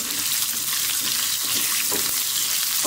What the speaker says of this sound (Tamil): இதோட கொஞ்சம் சின்ன வெங்காயம் ஆட் பண்ணிடலாம்.